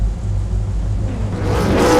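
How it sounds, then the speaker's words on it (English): V8 veteran race cars at Road America revving their engines before the start, a steady low rumble of several engines that swells and rises in pitch toward the end, loud and close with no talk over it. "Revs rise"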